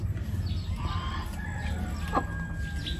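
Hens on a small farm cluck and chatter steadily at close range, with one short higher call standing out among the flock, no talking over them.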